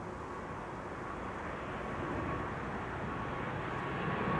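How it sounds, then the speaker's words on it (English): An Air Baltic Airbus A220, formerly the Bombardier C-Series, departing Amsterdam Schiphol Airport for Tallinn, a faint, steady distant jet rumble that slowly builds over a few seconds, with no talking. "Next up, Air Baltic to Tallinn. Bombardier C-Series."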